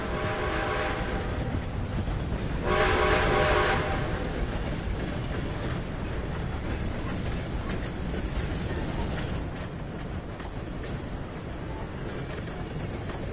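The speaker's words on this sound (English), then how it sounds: "Gotta beat that train, Morgan!" A train rumbles past in Red Dead Redemption 2, a loud continuous roar with a bright whistle-like burst early on, heavy and close before easing slightly toward the end.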